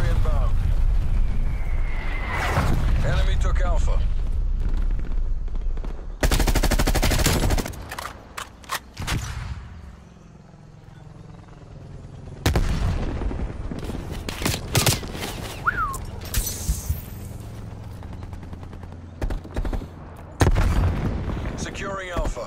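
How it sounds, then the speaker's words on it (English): Artillery strikes and heavy gunfire rage through a Call of Duty: Cold War Domination match, with loud booming blasts and rattling bursts coming in waves over about twenty seconds, broken by brief lulls, while radio-style voice callouts sound over the battle. "Hostile artillery targeting active."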